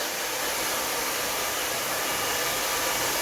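A hair dryer blows steadily on hair after a straightening and gloss treatment for fine, thin hair, giving a loud, even airy rush close by with no pauses or voices.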